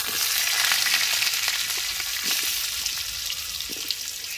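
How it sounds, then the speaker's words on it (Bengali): Potatoes frying in oil already used for fish, a steady loud sizzle with crackling bursts and faint stirring throughout, no voices. "একইভাবে এই মাছ ভাজা তেলের মধ্যে আলুগুলো হালকা করে একটুখানি ভেজে নেব।"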